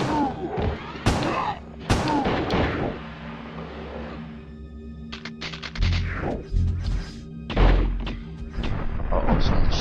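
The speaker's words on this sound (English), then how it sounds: "Uh-oh, someone's shooting bombs at me." Bombs explode in the video game Disruptor, several loud, sharp blasts arriving in irregular bursts, some close and booming, over steady game ambience with occasional talk.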